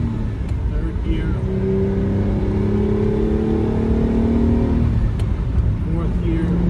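A 1974 Ferrari 246 GTS Dino engine revs up and shifts through successive gears, its rising whine dropping at each change; the mid-pitched engine note stays close and loud throughout.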